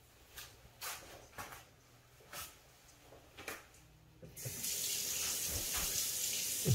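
Water pours from a tap into a sous vide cooker, a steady splashing rush that starts after a few quiet clinks and handling sounds and continues to the end.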